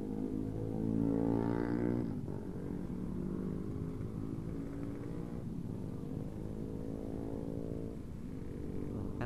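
A Honda Beat scooter running Repsol MXR Matic oil hums smoothly while riding, its engine note rising as it accelerates, easing off and climbing again in a steady, moderately quiet drone.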